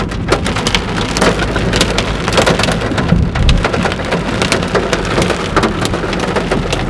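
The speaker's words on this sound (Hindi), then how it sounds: "ओले ही ओले।" Hailstones pelt a Hyundai i10 Grand on the road to Mussoorie, a dense, steady clatter of many hard strikes drumming on the car body, loud and continuous throughout with a low rumble beneath.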